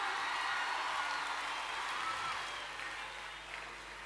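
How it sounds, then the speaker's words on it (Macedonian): Concert crowd applauding a live band at a pop show, broad wash of clapping and cheering that starts loud and slowly fades, with a faint voice over it. "Дайте уште еден аплауз за бендот, ве молам, ве молам."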